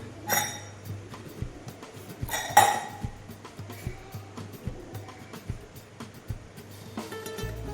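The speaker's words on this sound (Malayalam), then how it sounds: "ഇനിയൊന്ന് നമുക്ക് കുക്കർ തുറന്ന് നോക്കാം." A pressure cooker holding beef for Kerala erachi choru is opened after its steam has been let out, bringing a few metallic clanks and a sharp clatter of the lid and pot, close by, then lighter scattered clinks.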